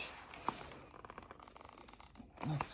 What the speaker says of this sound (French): J'enlève le scotch.